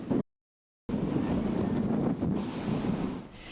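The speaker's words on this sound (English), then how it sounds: "winds continue to remain strong here in places like Porter Ranch" Strong gusts of 45 to 55 mph buffet the microphone in Porter Ranch, a loud roaring wind noise that cuts out briefly near the start, then returns steady and forceful.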